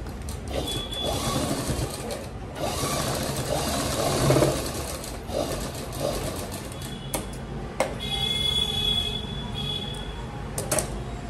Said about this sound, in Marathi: एका बाजूने अशी शिलाई मारून घ्यायची